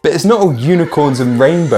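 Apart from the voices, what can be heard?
No distinct noise like a dog, phone or traffic.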